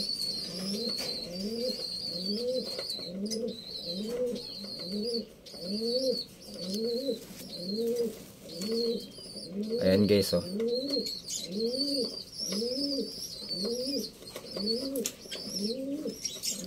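A wounded racing pigeon, injured on the nape, coos in a steady run of repeated, evenly spaced calls at close range, with other birds chirping in the background and a brief spoken remark.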